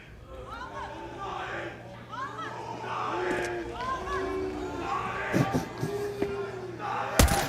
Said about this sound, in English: Wasn't expecting such a rowdy crowd today.